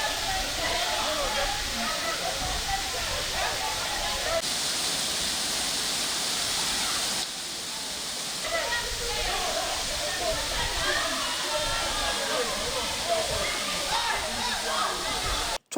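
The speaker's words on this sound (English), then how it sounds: "The mystery waterfall provides the traveler from far and near the wonder of" A waterfall in a lush Nigerian forest pours with a dense, continuous roar, steady and loud throughout with only small shifts in level.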